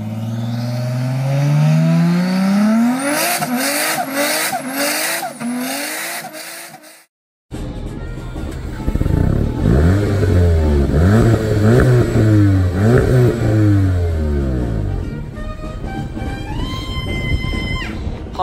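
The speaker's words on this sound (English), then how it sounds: "I'm here with Volkswagen in the new Volkswagen Golf GTI TCR car" Volkswagen Golf GTI TCR race car on the Millbrook track, engine loudly revving and climbing through gears with rising whines, a brief cut to silence, then more hard acceleration and shifts close by.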